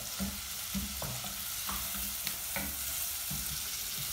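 Onions frying with ginger and garlic for a Kerala-style Malabar chicken curry hiss in a steady sizzle while a spatula knocks and scrapes the pan in a loose rhythm.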